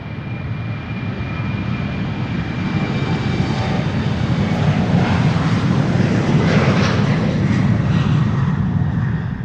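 A KLM jet airliner in a new livery takes off from Amsterdam Schiphol Airport on a sunny day, its engines producing a loud, sustained, rumbling roar that builds and swells.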